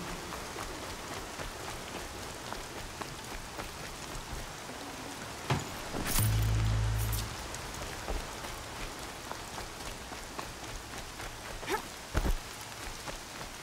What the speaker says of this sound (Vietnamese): Giờ trời mưa nó mới ghê chứ.